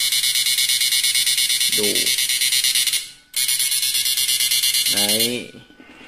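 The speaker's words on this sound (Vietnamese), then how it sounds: "bật lên chế độ bên trên này cho anh em nghe tiếng máy này" An upgraded Samus 3000G machine runs with a loud, steady high-pitched electronic buzz that pulses rapidly, briefly cutting out once, while someone speaks over it.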